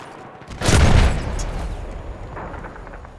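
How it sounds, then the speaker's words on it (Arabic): A grenade goes off with a single loud, heavy blast in Battlefield 1 conquest combat, then rumbles and fades into a long tail over distant battle noise. "قنبلة تخرج. كونوا حذرين."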